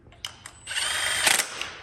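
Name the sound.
impact wrench on a CR250 engine bottom end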